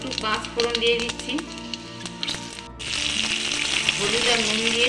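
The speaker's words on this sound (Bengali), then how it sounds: "এবার একটু পাঁচ ফোড়ন দিয়ে দিচ্ছি" Panch phoron spices sizzle and crackle in hot oil in a close, loud, continuous spatter that briefly dips and then surges again. A person talks over the frying.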